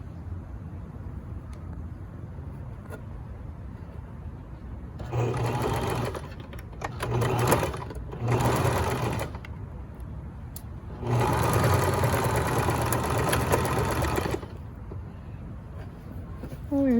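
Sewing machine stitching the shoulder seams and inner neck facing of a garment, running in several bursts of varying length with quiet pauses between, close and steady in a quiet room.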